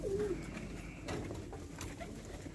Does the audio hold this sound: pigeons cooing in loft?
yes